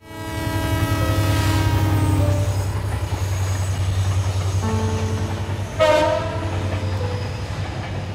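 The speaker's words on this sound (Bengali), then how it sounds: "ট্রেনটা মনে হয় যাবে ফেনীতে।" A train rolls past close by, its loud horn blaring in a long steady blast, then a second shorter blast over the continuous rumble and clatter of the wheels.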